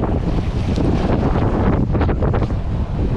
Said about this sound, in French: t'entends ce vent